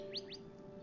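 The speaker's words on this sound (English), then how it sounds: "You're here listening to the sounds of the birds" Two quick rising chirps from a bird sound faintly outdoors, followed by quiet background hum.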